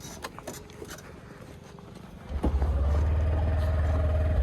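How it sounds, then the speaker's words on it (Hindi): A vehicle engine starts up and settles into a steady, loud low rumble as a night ride on a road begins, with faint voices and knocks before it. "तो गाइस अभी गाड़ी चालू है और हम जा रहे हैं रास्ते पर"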